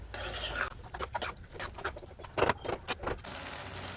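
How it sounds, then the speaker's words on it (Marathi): Carrot halwa with khoa and milk stirred in a pan, a spoon scraping and clinking against metal in a quick irregular series of close strokes. "आता एकदा चांगलं हलवून घेऊया गाजराचा हलवा"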